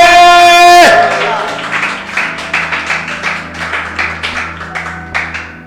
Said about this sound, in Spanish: ¿Por qué no le damos un aplauso a él, hermano?